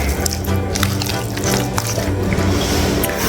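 A big fork stirring poblano pepper filling in a pan, a steady wet scraping and squelching with light clatter, close and continuous with no talking.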